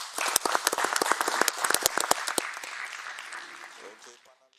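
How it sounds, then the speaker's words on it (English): A conference workshop audience applauds panelists with dense, sharp claps that gradually thin out and fade toward the end. "can we give a round of applause for our panelists?"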